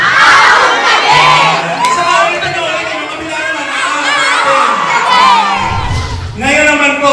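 A large audience at a celebrity meet and greet cheers and shouts loudly without pause. Crowd voices and whoops fill the whole stretch, close and dense.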